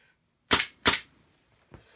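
An airsoft gun fires at a target: two sharp close cracks in quick succession, then a fainter third snap a moment later.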